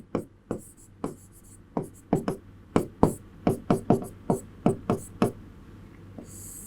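Chalk or marker writing on a board during a Class 12 chemistry lesson, a brisk series of close, crisp taps and strokes in an uneven rhythm, with no speech over them.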